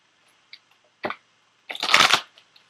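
Tarot cards being shuffled by hand, a few short riffling bursts close up in a quiet room, ending in one longer crisp flutter.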